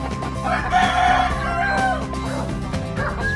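A gamefowl rooster crows loudly and close by, one long strained cock-a-doodle-doo with clucking and other fowl around it.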